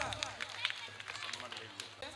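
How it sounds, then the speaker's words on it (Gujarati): Light, scattered clapping from an audience at a school annual function, a brief patter of hands honouring donors, fairly soft and rising and falling over a couple of seconds. "ફરીથી આ દાતાશ્રીઓને તાળીઓથી વધાવીએ"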